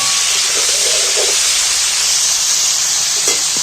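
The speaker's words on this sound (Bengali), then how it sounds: "কপিগুলো আমি একটু ভেজে তুলে নেব" Cauliflower pieces sizzling in hot oil in a frying pan, a continuous close hiss with faint stirring and bubbling touches, and no voices.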